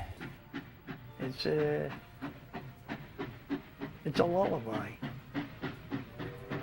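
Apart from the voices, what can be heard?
steam locomotive chugging and whistle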